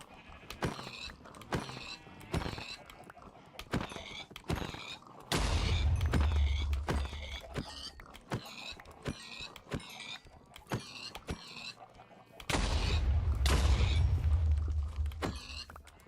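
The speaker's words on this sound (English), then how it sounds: "This game really needs to knock it off with the explosions." Repeated sharp booms and thuds in rapid bursts, with two longer rumbling blasts, explosions in the game Gregtech going off amid gunfire-like cracks.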